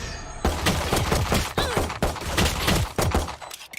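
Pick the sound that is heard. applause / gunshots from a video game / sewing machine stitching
gunshots from a video game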